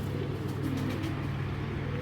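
A racing pigeon gives a low, muffled coo against a steady background rumble. The bird sounds close but quiet.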